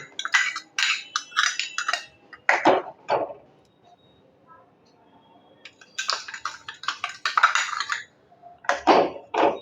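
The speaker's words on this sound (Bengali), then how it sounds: "এখন গুড়টা ভালো করে দেওয়ার পর একটু নাড়তে হবে" Date palm jaggery goes into milk in a pot for kaun rice payesh, then a spoon stirs with repeated clinks and scrapes in bursts, separated by quiet pauses.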